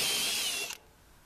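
A power drill bores a hole through a running board on a vehicle, a steady bright whine lasting most of the moment, close and loud, then cutting off abruptly into quiet.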